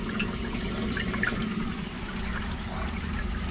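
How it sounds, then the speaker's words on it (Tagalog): Water runs continuously by gravity through a koi pond pipe toward a mechanical filter, a steady, fairly loud rushing and gurgling flow without pause. "dumadaloy ang tubig by gravity fed papuntang mechanical filter"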